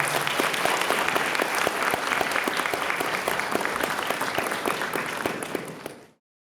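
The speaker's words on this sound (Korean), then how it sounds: "뜨거운 박수로 축복하겠습니다" Warm, sustained applause from a wedding hall audience for a bride and groom after their ceremonial bow, steady dense clapping for about six seconds before fading out abruptly.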